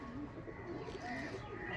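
Pigeons cooing in a loft where many birds have been dying, soft repeated low coos running steadily through the clip at close range, with no other sound over them.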